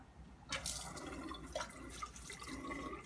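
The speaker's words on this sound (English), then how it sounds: "You're going to rinse them out, dump them out, and then rinse them out." Water runs and splashes as test tubes are rinsed and emptied at a lab sink, soft irregular gurgles and pouring, faint and close, with no voices.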